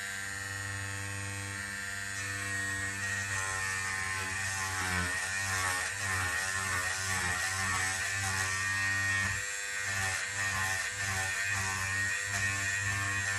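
A Wahl corded clipper and trimmer runs continuously near the microphone with a steady electric buzz and hum, its tone wavering slightly as it works across fabric to remove stitches.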